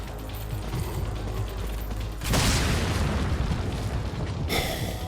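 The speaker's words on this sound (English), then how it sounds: "I was not expecting an explosion." Explosion in the video game Resident Evil 4: a sudden broadband burst at about two seconds swells into a loud rumbling roar over low mechanical clanking, with a second bright crackling flare near the end.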